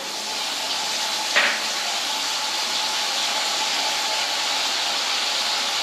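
Tomato, green chili and ginger paste hits hot oil in a pan with a sharp burst, then settles into a steady, loud frying hiss that runs unbroken to the end.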